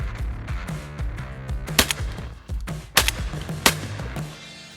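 A Browning Maxus semi-automatic shotgun fires cartridges in a series of sharp, booming shots spaced irregularly over a few seconds, with quieter thumps and echoes between them and no talk.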